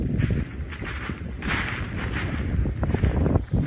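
Wind buffets an iPhone microphone outdoors on open rural land near Cambridge, Minnesota, producing a loud, continuous low rumble that swells in gusts throughout, with no voices heard.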